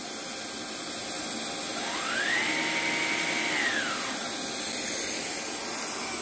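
A Vax ONEPWR Blade 4 cordless vacuum cleaner runs with a steady, loud suction hiss and a motor tone that rises in pitch and then falls back, with no talking.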